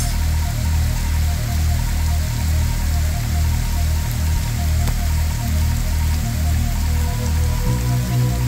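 Steady rain patters on a surface close by, with a low rhythmic engine idle chugging underneath throughout.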